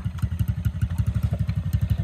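A motorcycle rides over rough ground in a newly planted palm oil plantation, its engine thumping in a fast, even pulsing rhythm, close and fairly loud with no talk.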